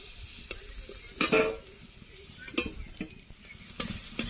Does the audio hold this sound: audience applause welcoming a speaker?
no